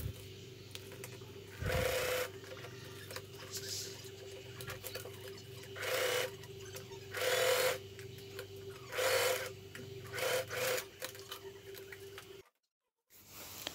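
Sewing machine stitching a faux leather pouch, several separate whirring runs of about a second each spaced by quiet pauses, close and moderately loud, ending in brief silence.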